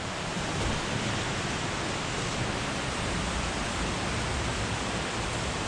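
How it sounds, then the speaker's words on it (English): Several tall waterfalls crash inside a cave, a steady, broad rushing roar of falling water that holds constant throughout with no voices over it. "multiple waterfall thing is dope. I can't believe how tall that is."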